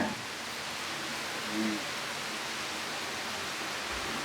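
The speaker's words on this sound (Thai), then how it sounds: "คือเลิกเล่นปุ๊บฝนตกปั๊บเลยครับนี่" Heavy rain pours outside a hotel in Pattaya, Thailand, making a steady, even, broadband hiss that fills the whole stretch without letting up.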